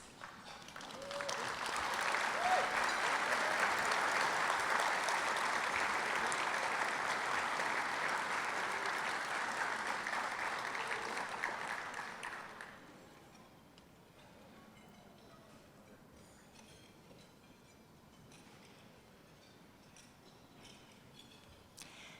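Audience applause at a Long Beach Fire Department meritorious awards ceremony, a steady sustained ovation from a crowd lasting about twelve seconds before cutting off to quiet room tone.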